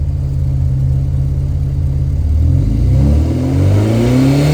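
A UAZ Hunter engine fitted with performance camshafts revs hard toward maximum RPM. The loud, close growl climbs steadily in pitch over several seconds.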